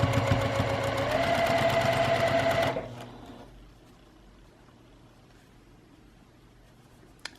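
A sewing machine stitches a quarter-inch seam down the center of two fabric pieces placed right sides together, running loud and steady with a rapid even whir for about three seconds before stopping, leaving quiet room tone.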